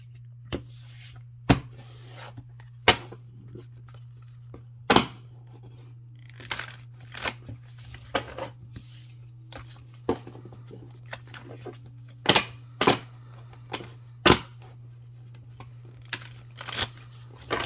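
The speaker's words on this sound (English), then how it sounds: "Shuffle them." Sufi Tarot cards are shuffled by hand in a quiet room, giving irregular crisp snaps and riffling bursts over a constant low hum, with occasional soft handling noises between them.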